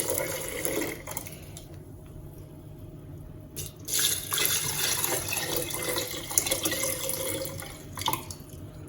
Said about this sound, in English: Then I'm going to add some filtered water.